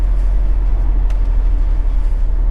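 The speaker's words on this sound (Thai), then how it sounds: "นี่นะผมลองเร่งดูครับ จะไป 120แล้วครับ" A low, steady diesel engine drone fills the cabin of a 2004 Mercedes-Benz E220 CDI (W211) accelerating toward 120 km/h, heavy in the bass with muted road noise and no voices.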